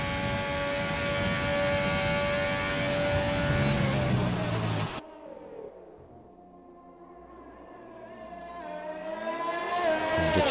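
An onboard race car engine roars through a lap, loud revs and rising pitch sweeps, then a sharp drop to a quieter low note before climbing again through the gears.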